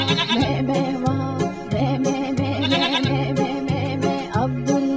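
Cartoon goat bleating along with a bouncy Urdu children's farm song in the style of Old MacDonald, the bleats repeating rhythmically over steady musical accompaniment and singing.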